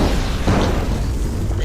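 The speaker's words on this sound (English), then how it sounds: "I guess explosions." A loud explosion sound effect, a dense booming blast that roars steadily for under two seconds without tapering.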